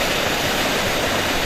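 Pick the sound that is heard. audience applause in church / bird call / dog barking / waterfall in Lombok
waterfall in Lombok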